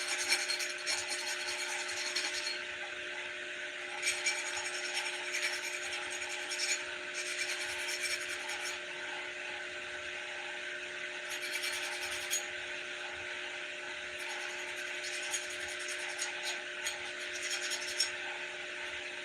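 A hand file scrapes burrs off freshly cut metal spinner blades in repeated rasping strokes, a soft, close, rhythmic rubbing over a steady background hum.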